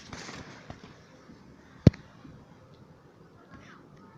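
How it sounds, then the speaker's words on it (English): New Year fireworks burst outside a bedroom: one sharp, fairly loud bang stands out over faint background noise, with softer pops around it. "This is fireworks."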